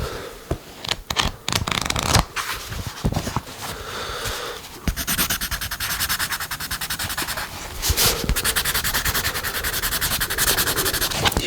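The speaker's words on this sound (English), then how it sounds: "Just write these notes down." Pen or pencil scratches and rubs across paper during a medical exam setting, close and textured, with continuous writing strokes and a few sharper taps.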